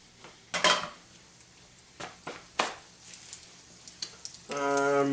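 Small perch fillets dropped into a hot pan, giving a few sharp clatters of pan and utensil, then a steady sizzle of frying that starts near the end, close up with no talk.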